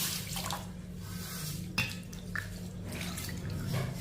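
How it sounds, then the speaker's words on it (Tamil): Water poured onto ragi in a vessel, a steady splashing pour with a few sharper splashes, close and moderately loud, no talk. "இப்போ இதில் வந்து தண்ணி ஊற்றிக்கிடுவோம்."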